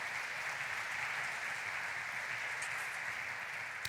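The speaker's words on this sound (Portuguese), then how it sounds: "Quem crê nisso, dê um aplauso ao Senhor Jesus." A church congregation applauds during a sermon, a sustained, dense roar of many hands clapping together, steady and moderately distant, with a couple of brighter claps standing out near the end.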